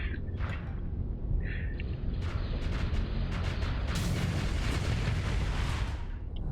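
A TIE bomber blowing up in the space game Starsector, heavy rumbling blasts with sharp crackling bursts over a constant low roar of battle.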